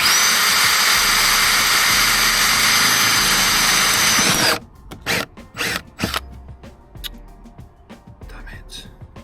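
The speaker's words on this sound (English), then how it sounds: "think I'm going to need a pilot hole that first though" Power drill with a small bit boring a pilot hole in a Ford Transit MK8 van's rear door, a loud steady whine for about four seconds, then stops and is followed by scattered clunks and handling noises with someone speaking quietly.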